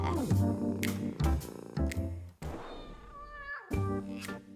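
Cats meow in a series of clear, drawn-out calls, some rising and falling in pitch, close and prominent over a busy background with occasional thumps and other sounds.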